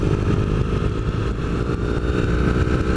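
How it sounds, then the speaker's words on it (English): A 2015 Triumph Bonneville Thruxton engine gives a close, steady, smooth rumble with a low throbbing beat throughout, and no speech. "2015 Triumph Bonneville Thruxton is like the Scrambler, very nice bike, very smooth engine"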